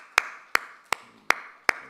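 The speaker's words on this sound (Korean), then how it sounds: "박수 한번 할까요?" During a Wednesday church service, five sharp claps ring out at an even, measured pace, each one crisp and separated by near silence.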